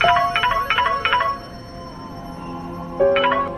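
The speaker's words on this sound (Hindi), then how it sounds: "कम ऑन सोनाक्षी, फोन उठाओ" A phone ringing in a Hindi TV drama scene, a repeating electronic ringtone pattern of bright tonal bursts, pausing briefly before starting again loud and close.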